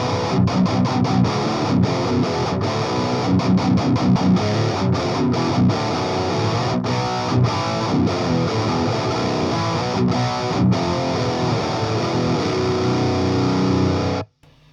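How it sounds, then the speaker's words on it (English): Loud distorted electric guitar through a modded Coven Amplification Origin 50 amp with an overdrive pedal, strummed chords and riffs played continuously, then cutting off abruptly at the end. "you can add an overdrive to that"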